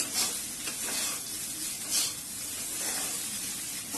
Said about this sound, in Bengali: চিড়েটা একটু নেড়ে চেড়ে, আর আঁচটা না একদম সিমে রাখতে হবে।